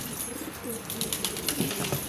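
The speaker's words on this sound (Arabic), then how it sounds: "يا اخوان هاي الحمام كمان زق." Domestic pigeons at a bird keeper's loft make a brief, close burst of soft cooing and wing flutter.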